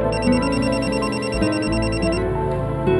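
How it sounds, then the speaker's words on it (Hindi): A telephone rings in a steady electronic pattern, loud and close, repeating bursts running through the whole moment with no voices over it. "इसलिए एक बार फिर उसने पवन को फोन किया।"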